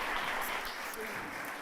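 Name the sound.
congregation applauding in church service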